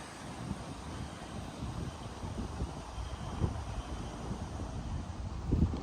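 Breezy wind gusts across a wet mountain trail in New York's Bear Mountain area, a soft, steady rushing that buffets the microphone at moderate level with a couple of louder thumps, no voices.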